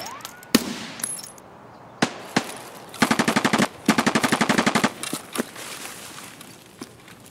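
Gunfire in the Escape From Tarkov video game: scattered single sharp shots, then two rapid full-auto bursts in the middle, followed by a few more isolated cracks, fairly loud with no talk.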